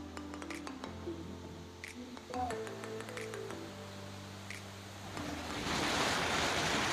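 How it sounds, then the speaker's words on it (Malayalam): A stream rushes near the Woodland waterfall in Nainital as a steady broadband wash of water. It swells louder toward the end, with faint tonal background sounds underneath. "അരുവിയല്ലേ ഇത്?"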